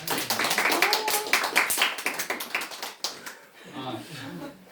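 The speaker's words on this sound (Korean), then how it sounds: "이 2 친구들 수고했다고 함께 박수 한번 치도록 하겠습니다" A church youth group audience claps together for two students, a dense burst of close, rapid handclaps that thins out and fades, followed by quieter murmuring voices.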